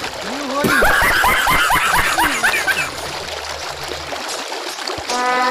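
Water splashes and sloshes during a Holi celebration on a farm, a burst of wet splattering up close, mixed with lively voices and laughter that fade toward the end.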